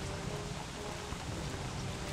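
Frog rain in the game Don't Starve Together, a steady, dense patter of falling drops across the whole stretch, even and continuous with no pauses, like a heavy downpour.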